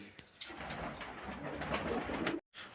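Kept pigeons, just given feed and water in the morning, coo steadily in a low, throaty murmur over a busy background, stopping for a brief silent gap near the end.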